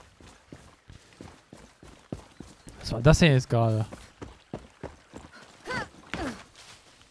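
In Far Cry 6, horse hooves clip-clop in a quick, uneven rhythm while a horse lets out a loud, sharp neigh, with someone speaking German over the sounds.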